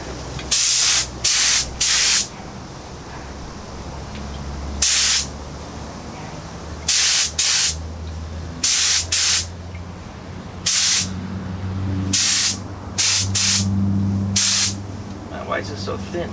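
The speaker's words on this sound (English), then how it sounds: "Test spray here." A compressor-fed spray gun test-sprays primer onto 1956 VW Beetle engine tins in about a dozen short, sharp hissing bursts, some in quick pairs and others spaced seconds apart, with a low background hum and some talk between bursts.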